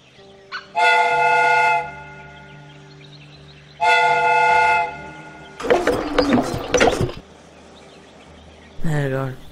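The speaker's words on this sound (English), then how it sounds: "the steam whistle is ready to be used." Steam whistle of a replica train in a Sherlock Holmes game sounds two long, loud, tonal blasts. Hissing steam bursts and a short final toot follow.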